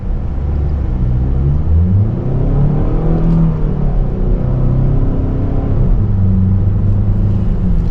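A 2025 Kia K5 sedan's naturally aspirated 2.5-liter inline-four hums and rises steadily as the car picks up speed, a continuous close rumble with no voices.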